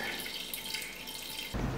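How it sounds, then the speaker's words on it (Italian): Water runs steadily from an open tap, a continuous hiss that grows louder and fuller near the end, with no one speaking. "Il rubinetto aperto."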